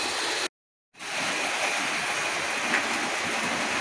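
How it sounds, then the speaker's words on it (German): An H0 scale model train runs on a model railway layout with a steady, close whirring rumble. The sound cuts out briefly near the start, then resumes evenly. "aber die Züge laufen wieder"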